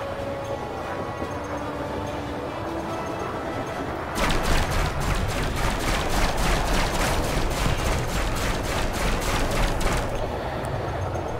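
Spaceship lasers fire in Elite: Dangerous during a fight against a Fer-de-Lance, a rapid, evenly spaced stream of loud zapping pulses that starts abruptly partway through and runs for several seconds over a low engine hum.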